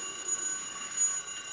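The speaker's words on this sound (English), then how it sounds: "Like it's clearly ringing." Bell ringing inside a partially evacuated vacuum chamber, a faint, muffled, continuous high metallic ring that stays steady and thin throughout.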